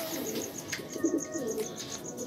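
Pet birds at night, soft low cooing like a dove or pigeon, faint and intermittent over a steady background with a repeating high chirp or insect-like trill, no talk.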